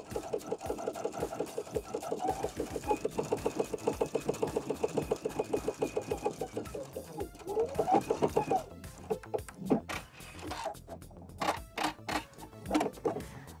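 Sewing machine with a braiding foot stitching rickrack trim, a fast even run of needle strokes for several seconds, then slower, irregular stitches and mechanical clicks, close and fairly quiet.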